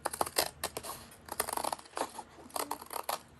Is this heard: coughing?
no